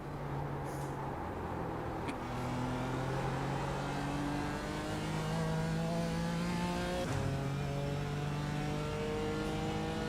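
A BMW M4 GT4 race car in the iRacing sim, a roughly 450-horsepower front-engine rear-drive machine, holds a steady engine drone that rises through gears, with one shift blip midway, continuous and close.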